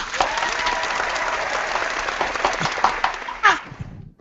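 A crowd applause sound effect plays during a live stream: dense, steady clapping lasts about four seconds before tapering off quickly at the end.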